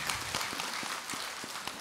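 A lecture-hall audience at a Buddhist monk's question-and-answer talk gives quiet, scattered applause, with individual claps standing out against soft, fairly distant clapping.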